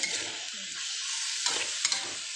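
Long eggplant being stir-fried in a wok, a steady loud sizzle with a few spatula scrapes and taps against the pan, close up and with no voices.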